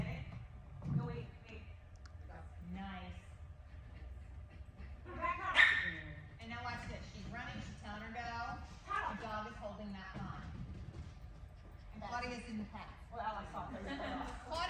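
A dog at a training class yips, barks briefly and whimpers in short bursts while people talk nearby over the sounds.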